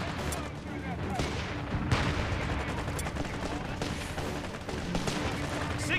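Off-map airburst artillery barrage in Company of Heroes 3 multiplayer, a dense continuous rumble of booms and bursting shells with scattered sharper cracks, loud and sustained across the whole stretch.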